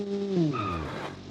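A Lada VAZ-2106 engine revs in neutral in the car-building game Automation, giving a loud, brief whine that sweeps upward and then settles, heard alone without talk.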